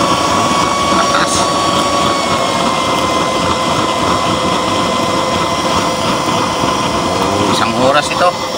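A used-oil burner roars steadily under a pot of boiling bamboo shoots, a loud continuous broadband rush with a faint tonal whine, constant for the whole stretch, with brief clatter near the end.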